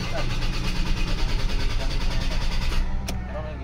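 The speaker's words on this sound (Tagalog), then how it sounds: "Ignition on, engine start." A 2003 Ford Ranger automatic with a hard-starting fault when hot runs at a steady, rumbling idle close by, with a continuous engine drone and a brief sharp tick near the end.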